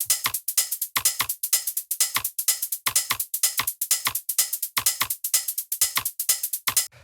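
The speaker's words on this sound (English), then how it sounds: "After that, we have the hi-hats, which sound like this." Hi-hat drum samples in a minimal house track, a steady fast rhythmic pattern of crisp bright ticks with some longer open hits, loud and alone.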